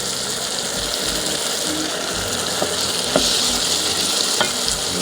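Matoke with carrots being stirred in a hot pot, a steady frying sizzle with occasional scraping clicks of the spoon against the pan, close and continuous with no talking.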